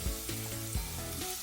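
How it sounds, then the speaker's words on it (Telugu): Curry leaves drop into hot oil for a potato curry, a brief bright sizzle that holds steady at close range, with faint tonal sounds in the background and no talk. "ఇప్పుడు దీనిలోకి అయితే కరివేపాకు వేసుకుందాం."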